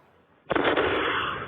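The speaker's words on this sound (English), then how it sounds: "A huge explosion" A sudden loud blast bursts out after near silence, followed by a sustained roaring rumble that continues at high volume.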